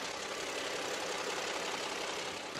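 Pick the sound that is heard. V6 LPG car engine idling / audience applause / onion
V6 LPG car engine idling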